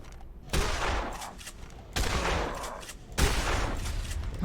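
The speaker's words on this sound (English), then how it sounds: "Shotgun it up." Shotgun blasts in the video game Dead Island: three heavy, booming shots spaced about a second and a half apart, each with a long rumbling tail, loud and close with no talk over them.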